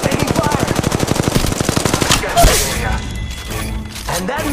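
Automatic gunfire in the mobile battle royale game Apex Legends Mobile fires as a rapid, steady burst of loud shots for about two seconds, then gives way to impacts, a thud and quieter game effects.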